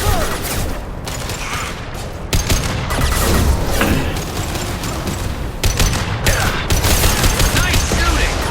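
Sustained rapid gunfire in a Mass Effect Legendary Edition battle, dense automatic bursts and impacts filling the whole stretch, loud and close, with brief voices mixed underneath.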